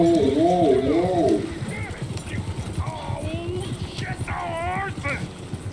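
Rhythmic horse hoofbeats clop steadily beneath voices talking in Red Dead Redemption 2, with a short tonal melody at the start and scattered game sound effects.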